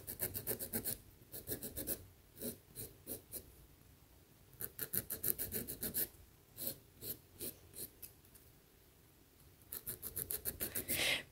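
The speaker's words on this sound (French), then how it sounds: "j'utilise une lime à grain très fin pour ongles naturels. Et donc, je fais des petits allers-retours" A fine-grit file for natural nails is drawn in short back-and-forth strokes across a gel nail. It makes a close, dry, scratchy rasp in quick rhythmic bursts separated by brief pauses, with no talk.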